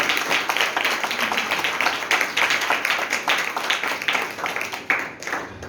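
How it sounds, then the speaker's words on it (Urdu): Church congregation at a Sunday service applauds energetically, with a continuous dense patter of claps lasting several seconds at a steady, fairly close level. "زوردار تالیاں یسوع مسیح کے لیے"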